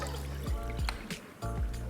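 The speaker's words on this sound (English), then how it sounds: "I'm adding an equal amount of water." Water is poured into thick Greek yogurt in a kitchen, producing a soft trickle with a few light, gurgling splashes at close range, fairly quiet.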